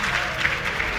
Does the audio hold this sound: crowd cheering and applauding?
yes